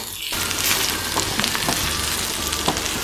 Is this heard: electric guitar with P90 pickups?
no